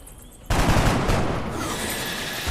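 A single sharp, loud sniper rifle shot in a video game bursts out after a quiet moment and trails off into a long, rumbling echo.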